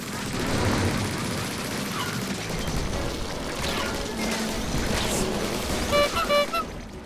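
Weapons firing in the Splatoon 3 video game during a Salmon Run Big Run wave, heard as dense, continuous game combat with repeated shots, splats and a few bright chiming effects near the end, steady and loud throughout.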